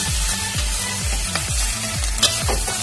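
Nasi goreng stir-fried with kencur leaves and celery leaves, a spatula scraping the pan in a steady rhythm of repeated strokes over a continuous close sizzle of frying rice.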